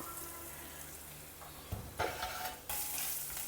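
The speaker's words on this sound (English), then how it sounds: "Fry the onions well." Onions frying with turmeric powder and salt in a pan, a steady loud sizzle with scraping stirs partway through and a brighter burst of hiss near the end.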